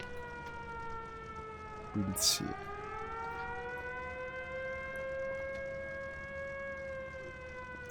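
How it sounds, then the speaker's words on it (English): A wailing air raid siren in the IL-2 Sturmovik flight combat game rises and falls steadily through the whole stretch under constant background noise, while someone speaks a few words briefly. "I only hear the siren going."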